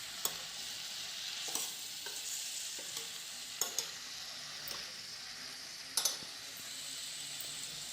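A spoon stirs cubed paneer into vegetables frying in a pan, with steady soft sizzling and several distinct scrapes and clinks against the pan, close and without speech.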